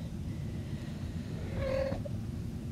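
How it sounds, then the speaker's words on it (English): A house cat gives a single short meow, a brief tonal call rising out of steady low background hum in a quiet room. "I don't know if you guys can hear my cat Hanks, but he is wanting to participate"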